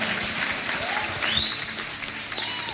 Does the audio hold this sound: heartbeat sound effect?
no